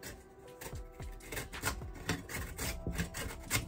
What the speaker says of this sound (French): Je râpe donc mes carottes grossièrement.